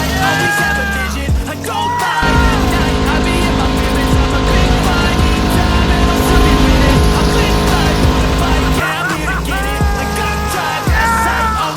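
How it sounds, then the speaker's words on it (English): A turbocharged V8 Mini Cooper doing a burnout in front of grandstands, a loud sustained engine roar with screeching, squealing tires, rising and falling revs at the start and end. "Looks like he's stopped up in front of the grandstands, just burning them, trying to get them to pop."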